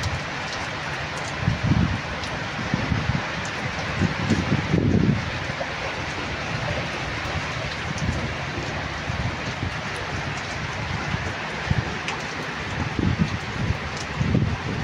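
Rain falls steadily on a stormy river trip, a continuous broadband hiss running throughout, with low rumbling gusts and a few louder bursts.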